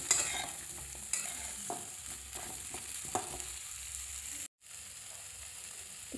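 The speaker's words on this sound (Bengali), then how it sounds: "তেলটা গরম হয়ে গেছে, আমি আমগুলো সব একে একে ছেড়ে দিচ্ছি" Mango pieces for a sweet Bengali pickle fry in hot oil while being stirred, giving a steady close sizzle broken by light scraping strokes, then a brief hush near the end before the frying resumes.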